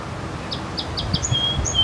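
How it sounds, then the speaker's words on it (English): Short high chirps from a sparrow of an unfamiliar kind, several quick notes in a row ending in a couple of thinner drawn-out whistles, moderately distant over a low outdoor rumble. "It's a sparrow I'm not familiar with."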